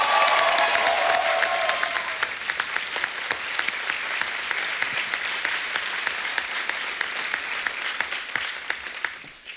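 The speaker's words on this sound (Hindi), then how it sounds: "एक बार जोरदार तालियां टाइगर के लिए हो जाए।" Loud, sustained applause from a large studio audience on a comedy talk show, dense clapping that runs steadily for several seconds and holds nearly level throughout.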